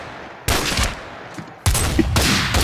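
A machine gun fires in modded Minecraft, two loud sustained bursts of rapid shots close by, separated by a short gap.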